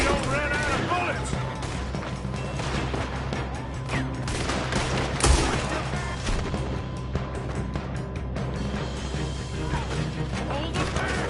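Rapid gunfire during a robbery shootout in the Red Dead Redemption 2 video game, with dense overlapping shots and clattering crashes in continuous loud bursts, and voices talking through the fray.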